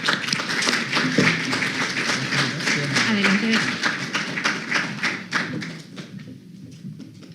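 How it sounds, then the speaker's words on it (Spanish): Clapping from an audience at an academic year opening ceremony for a university architecture and urbanism faculty, brisk and fairly close for several seconds, then thinning out as a few voices murmur underneath. "Un fuerte aplauso, por favor"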